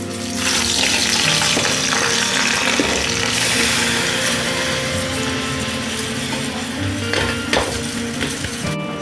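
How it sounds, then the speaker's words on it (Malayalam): Rice for beef kothu biriyani frying in a hot pan, a loud, dense, continuous sizzle with occasional scrapes and stirring clatter, no voices. "അപ്പോൾ ഇത് നമുക്കൊന്ന് ജസ്റ്റ് ഫ്രൈ ചെയ്തെടുക്കാം."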